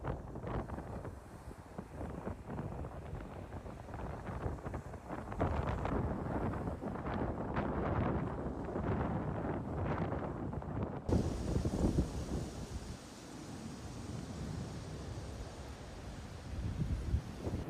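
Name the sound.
nor'easter wind gusts on the beachfront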